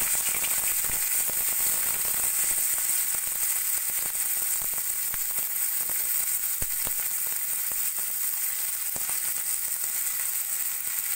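Cumin seeds and thinly sliced onions frying in hot oil in a wok, a loud, continuous hissing sizzle with scattered small pops and crackles throughout.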